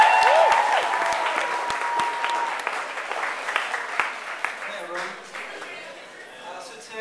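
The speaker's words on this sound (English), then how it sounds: "Round of applause" Lecture audience applause rings out loudly at first and then thins and fades away, leaving scattered claps and murmuring voices in the room.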